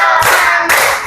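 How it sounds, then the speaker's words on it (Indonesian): Fifth-grade pupils in an elementary school classroom clap in a counting clap game, two loud, crisp bursts of many hands striking together in quick succession, each ringing briefly in the room. "Tepuk 1, tepuk 2, tepuk 3,"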